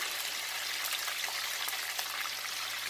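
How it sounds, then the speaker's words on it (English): Fish for Jamaican escovitch sizzles and crackles steadily in hot oil, a dense close-up spitting hiss with no talking. "as soon as I finish frying my fish"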